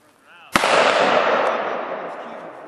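A single sharp gunshot rings out at a Shoot N Spin dueling shooting tree, followed by a long, loud decaying echo, with faint voices just before it.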